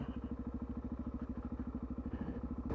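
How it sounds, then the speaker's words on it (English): A motorcycle sits idling while its side stand bounces, making a fast, steady, rhythmic clatter of thumps, close and moderately loud. "I bet that was the side stand bouncing."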